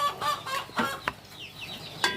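Chickens on a small home farm give several short clucks in an uneven rhythm, close by and fairly soft, with no talk.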